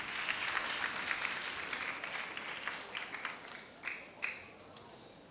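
A church congregation applauds in a sustained wash of many hands clapping, moderately distant and reverberant, with a few sharper claps rising near the end as it tapers.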